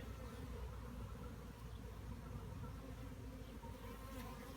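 A dense, continuous buzzing of many Italian honeybees at a hive fills the air, steady and close, with no voices.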